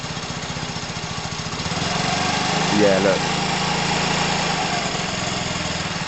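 A car engine idles with a steady low throb, its pitch lifting briefly as it is revved in the middle before settling back, while someone speaks briefly nearby.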